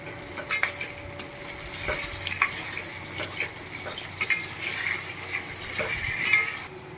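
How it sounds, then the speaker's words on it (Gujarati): Sliced potatoes are stirred with salt in a hot pan, with scattered scraping clicks of a spatula over a steady, low sizzle close by. "સ્વાદ પ્રમાણે આપણે મીઠું એડ કરી દઈશું મિક્સ કરી લઈએ"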